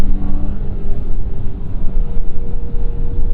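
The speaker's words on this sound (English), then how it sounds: "Naturally aspirated V6. It's lacking character. It doesn't sound that great. It doesn't love revving that much." Naturally aspirated V6 of a 2022 Dodge Challenger GT drones steadily from inside the cabin at a constant, moderately loud level, with no talking over it.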